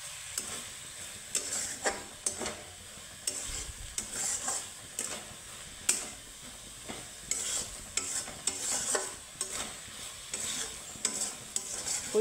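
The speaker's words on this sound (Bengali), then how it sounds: "একটু ভাজা ভাজা করে নেব।" Moong dal being stirred and fried in a pan: a steady sizzle under repeated scraping strokes of a spatula, with sharp clicks against the pan at an uneven rhythm, close and fairly loud.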